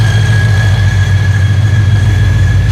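A supercharged 5.0 V8 in a 2019 Mustang GT idles steadily with a deep, rumbling low throb and a faint high supercharger whine, loud and close with no talking.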